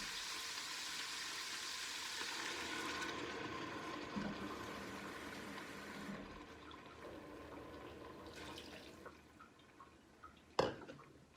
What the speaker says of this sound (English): what we're going to do now is add 500 mils or 2 cups of water